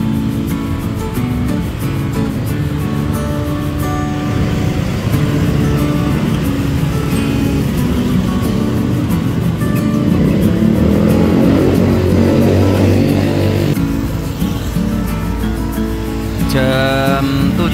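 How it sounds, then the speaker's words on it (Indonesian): The Dedi Jaya bus, nicknamed Kalbu, pulls out from an informal night terminal at Petarukan market, its engine rumbling loud and steady close by, with a horn blast near the end. "Ini merupakan bis yang pertama kali diberangkatkan tuh, Dedi Jaya dengan nickname-nya Kalbu"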